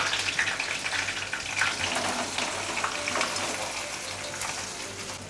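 Green chillies and curry leaves frying in hot oil in a kadhai while fasting-style potato vada batter is being prepared, giving a steady, close crackling sizzle with sharper spits throughout and no talk.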